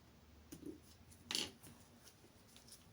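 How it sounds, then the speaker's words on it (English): Scissors snip off excess string on a hot-glued beaded craft strand, two quiet, close cuts about a second apart, the second sharper and crisper, against a near-silent room. "And then cut off the excess string."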